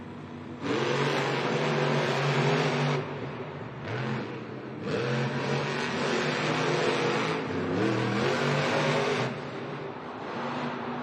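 Monster truck engines roar and rev at a Monster Jam stadium championship in East Rutherford, loud and close, in long sustained bursts with brief dips between them, and no talk over them.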